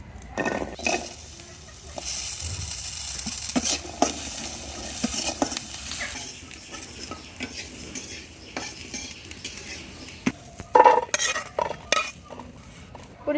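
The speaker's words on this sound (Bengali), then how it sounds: "আমাদের যে পেঁয়াজ রসুন কাঁচামরিচ লাগবে সেগুলো আগে ভাজি করে নেবো" Onion, garlic and green chillies fry in a pan for a Bengali village-style mashed dish, with a low sizzle, busy stirring, clinks and scrapes of utensils coming in bursts, close by and without speech.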